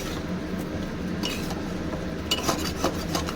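Spice paste fried in a pan for a snakehead fish and radish curry: soft rasping strokes of a spatula scraping and stirring, with a few light metallic clinks toward the end. Quiet and close, no voices.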